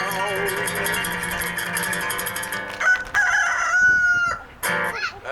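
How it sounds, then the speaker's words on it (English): A recording of a rooster crowing, played back loudly outdoors at a school blues performance, with one long drawn-out crow followed by shorter broken calls and clucks. "That's a Roscoe the Blues Rooster. We recorded him this morning before we got here."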